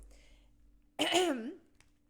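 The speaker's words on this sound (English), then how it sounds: "As I'm coughing" A single rough, voiced throat-clearing cough close to the mic, rising and wavering briefly before fading into quiet.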